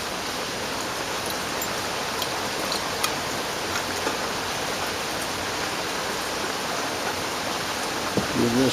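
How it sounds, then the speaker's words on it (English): Water poured off a rinsed batch of gold refining material from computer scrap, a steady broad wash of splashing flow running continuously and fairly loud throughout. "Pour some of this water off."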